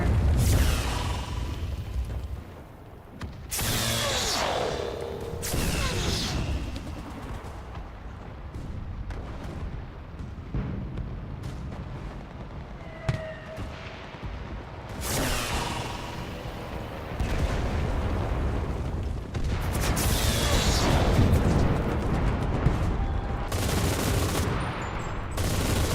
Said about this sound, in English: Ich rufe die Artillerie! Verstanden! Bestätige Feuer!